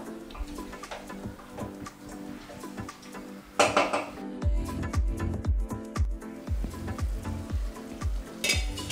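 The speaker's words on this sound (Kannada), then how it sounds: "ಇವಾಗ ಚೆನ್ನಾಗಿ ಕಲಿಸ್ಕೊಳ್ಳೋಣ. ಕಲಿಸ್ಕೊಂಡು 2 ನಿಮಿಷ ಇದನ್ನು ಹಾಗೆ ಬೇಯಲಿಕ್ಕೆ ಬಿಡೋಣ." Green chicken masala is stirred and cooked in a pan, with a spoon scraping and clattering against the metal over a steady sizzle, and louder stirring bursts midway.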